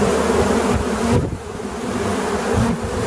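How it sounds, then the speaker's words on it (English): A dense, continuous drone of many honey bees buzzing and fanning at close range, steady and loud with slight swells. "You hear the poor girls trying to fan for luck, get their breath."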